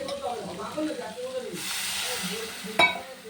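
Spices with Kashmiri chili powder fry and sizzle in a pan, a soft steady hiss with stirring, rising briefly in the middle, while a person talks over it.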